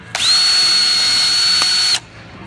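A power ice auger drills a hole through lake ice in one steady, loud, close whine lasting about two seconds before cutting off abruptly.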